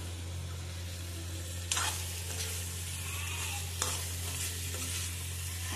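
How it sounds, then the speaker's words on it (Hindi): Chicken pieces are stirred into a pan of roasted, sizzling masala: a steady close frying hiss over a low hum, with a couple of sharper scrapes as the spoon mixes. "अब मैं इसमें चिकन ऐड करूँगी। थोड़ा सा मिक्स कर देंगे"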